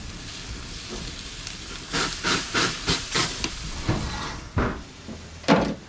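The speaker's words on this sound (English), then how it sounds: "we're just gonna sear it for about another minute" Dry-aged prime rib tomahawk steak searing over a high gas flame gives a steady close hiss and sizzle, with a run of louder pulsing bursts in the middle and a sharp flare near the end.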